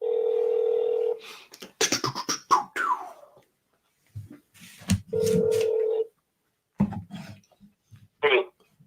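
A phone line gives steady tones, a couple of long ringback buzzes separated by short pauses, with people talking in between.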